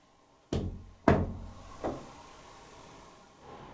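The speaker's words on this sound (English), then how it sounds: "Did you hear that knock before he knocked?" Inside a house in Hull during a ghost hunt, a few hollow knocks land on wood: two sharp close raps half a second apart, then a softer third and a faint fourth trailing off.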